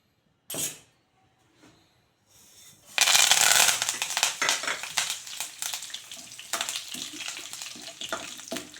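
A brief sizzle, then a loud burst of crackling and popping as seeds splutter in hot oil, continuing in dense irregular snaps.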